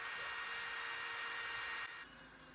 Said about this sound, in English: Here I am just drilling out the 2 holes ready for the rivets that will hold the snorkel to the wing